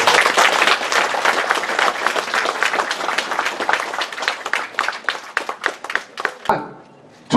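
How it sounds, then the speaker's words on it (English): Applause from a crowd at a market naming ceremony, dense and sustained clapping for several seconds that thins into scattered claps before fading out. "Let's give Ms. Maura Lopez another round of applause in the family."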